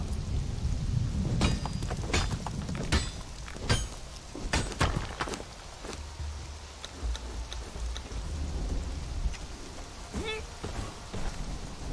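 Steady rain hiss with scattered sharp cracks and rumbles of thunder in the video game Conan Exiles, running throughout at moderate level while a voice talks over it.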